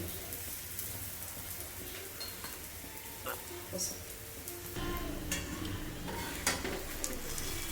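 Thalipattu made from jowar flour and bottle gourd frying in a little oil over a high flame, giving a soft continuous sizzle with light scraping and tapping, fairly quiet throughout.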